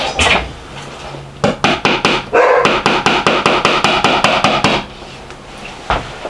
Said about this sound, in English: I didn't find my hammer, but I found a comically small hammer